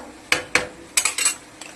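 A metal lid clanks onto a pot of cooking kalmi greens, several sharp close knocks and rattles in quick succession as it settles, with a faint clink at the end and no talk.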